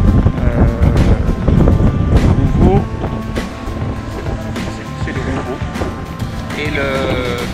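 Loud, gusty wind at sea buffeting the microphone over rushing water and sailboat noise, with voices talking in the background.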